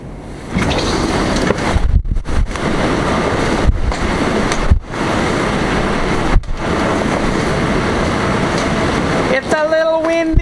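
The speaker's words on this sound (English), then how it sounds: "I just want to show you how windy it is outside." Strong wind roars and buffets a nearby microphone in steady, heavy gusts, with a short dip now and then and a brief clatter at the end.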